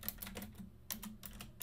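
Quick bursts of keystrokes on a computer keyboard while entering switch configuration commands for a data center network lab, with irregular clusters of clicks and short pauses, close and clear, no talking.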